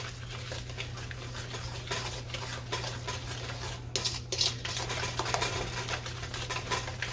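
Snickerdoodle cookie dough is stirred in a bowl, giving a steady clatter and scrape of utensil against the bowl that runs throughout, close and fairly quiet, over a constant low hum.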